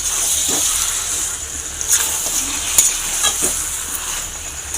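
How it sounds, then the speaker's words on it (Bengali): Pieces of previously deep-fried chicken for a yogurt chicken dish sizzle steadily while being sautéed in hot oil, with occasional stirring scrapes rising over the constant close hiss. "এটাকে ভালো করে আমি কষিয়ে নেব"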